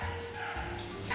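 A sick puppy with diarrhea at a veterinary clinic for abandoned animals gives a short, close yelp or whimpering bark, brief and moderately loud, with faint room tone behind it.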